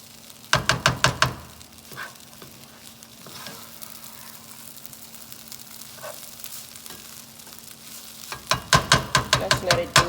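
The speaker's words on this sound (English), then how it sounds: "Let's let it do that sizzling a little bit on that side" Food sizzles and fries in a pan, with loud crackling bursts at the start and again near the end and a steady quieter sizzle in between, with no talking.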